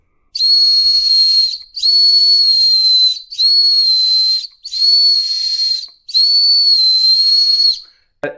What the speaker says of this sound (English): We're going to do the last one, which is this little whistle here.